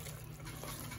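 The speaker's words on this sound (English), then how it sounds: "now I'm going to add my water." Water pours steadily into a large seafood boil pot, a continuous dense rushing splash that fills the whole short moment without any talking.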